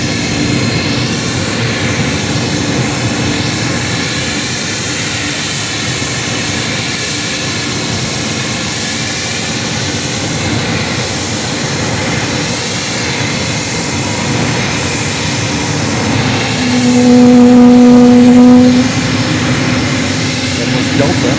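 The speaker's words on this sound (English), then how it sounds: "Delta 321 Neo is 3 years old and is heading back to" A Delta Airbus A321neo departs Fort Lauderdale airport, its jet engines giving a loud sustained roar with a tonal whine that rises briefly near the end, steady and close throughout without speech.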